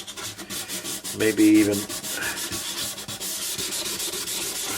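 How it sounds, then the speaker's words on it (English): Very fine 1500-grit sandpaper rubs over a 1970 Japanese Ariana AW-60 guitar in close, rhythmic back-and-forth strokes, with a brief spoken phrase partway through. "So this is a very fine sandpaper."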